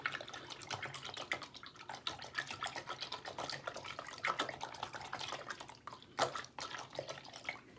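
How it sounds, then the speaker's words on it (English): Water splashes and drips while makeup brushes are washed, an irregular close patter of trickling and dripping with small louder splashes, steady throughout. "I'm just washing brushes that I will have to use all the time when I do my videos."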